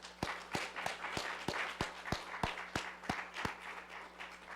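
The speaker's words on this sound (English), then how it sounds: "Definitely worth an applause" An audience applauds the mayor at a city hall State of the City address, a faint, thin round of evenly paced claps from a small crowd, without speech.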